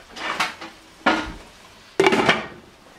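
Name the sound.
covering a cooking pan with its lid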